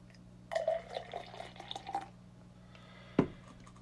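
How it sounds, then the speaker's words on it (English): A dark, fizzy beer is poured into a glass in a short, close splashing burst, followed by a single clink. "Let's have a pour."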